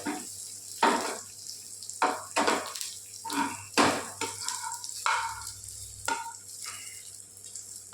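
Raisins fry in hot ghee with a soft sizzle while a spoon scrapes and stirs the pan in irregular strokes.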